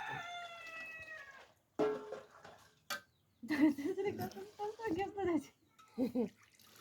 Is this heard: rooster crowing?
yes